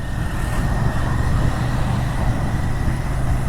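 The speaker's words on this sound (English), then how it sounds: "Yeah, traffic is fine, not very heavy, medium to heavy it is." Medium to heavy road traffic on a winding green ghat road near Chennai, heard from a moving Royal Enfield Interceptor 650, a loud steady rumble of engines and wind noise with no distinct breaks.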